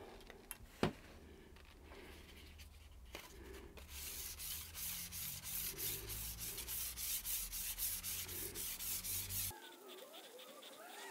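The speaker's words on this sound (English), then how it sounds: "We're gonna give this a really light sanding" A wooden steering wheel gets a very light hand sanding with sandpaper: soft, rhythmic rubbing strokes start after a few quiet seconds, continue evenly, then stop abruptly near the end.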